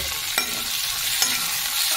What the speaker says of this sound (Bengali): চিংড়ি মাছটাও আমি পেঁয়াজ লঙ্কার সাথে একটু ভাজা ভাজা করে দেবো।